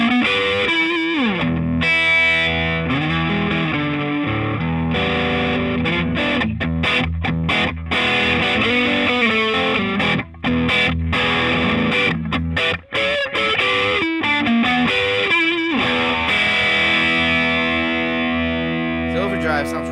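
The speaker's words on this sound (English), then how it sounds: "Overdrive sounds really good" Electric guitar driven through a Wampler Pantheon overdrive pedal with gain fully up plays a thick, saturated distorted line of chords and notes, loud and continuous, with only brief gaps.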